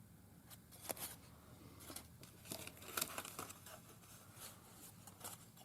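Frilled crepe paper being handled for craft flower embellishments, giving soft scattered crinkles and rustles with a few sharper crackles, close and faint with no talking.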